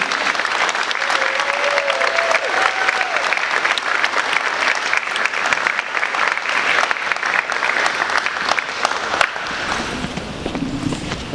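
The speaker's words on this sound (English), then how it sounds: "let's give a warm applause for those two" At a school district board meeting, an audience gives loud, sustained applause for student art award winners, the clapping dense and even for about nine seconds before tapering off into a low voice.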